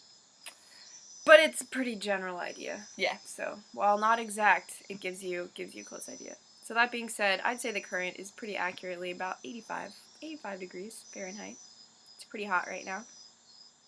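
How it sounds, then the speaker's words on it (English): Cicadas in hot Panama weather keep up a thin, continuous high-pitched buzz in the background, with someone talking over it throughout. "You can hear the cicadas in the background."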